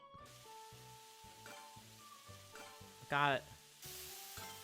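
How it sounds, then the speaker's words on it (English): Chicken fried rice stir-fried in a video game cooking scene: short rhythmic sizzling bursts under a game music melody, a brief rising chirp near the end, and one short spoken word. "Stir fry the chicken fried rice."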